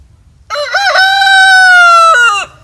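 A rooster crows once, loud and close, a single drawn-out cock-a-doodle-doo lasting about two seconds against a quiet background.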